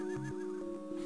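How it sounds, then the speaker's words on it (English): Horse neighing in a Barbie Game Boy Advance video game: a short synthesized whinny with wavering pitch over steady chiptune background music, quiet. "I don't like the idea that maybe Barbie is abusing horses in the UK"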